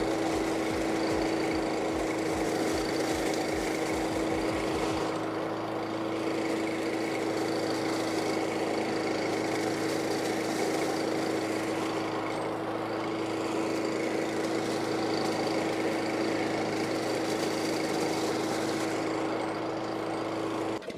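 A leaf collection machine runs continuously and loudly, its engine droning with a steady hum while heavy leaves are pulled in, with a brief rhythmic chugging at the start.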